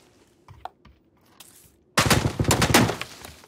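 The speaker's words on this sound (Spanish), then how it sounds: "El del AUG, tío, me ha tirado dos tiros de AUG" A burst of AUG rifle fire in the shooter game PUBG erupts after faint clicks and thuds, a rapid, loud volley of gunshots lasting over a second before trailing off.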